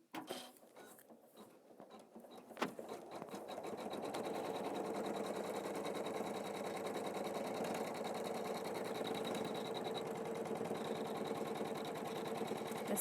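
An embroidery machine quilts a crosshatch pattern in steady, fast mechanical chatter, the needle tapping in a tight even rhythm that begins after a few quiet clicks and runs on continuously, fairly soft and close.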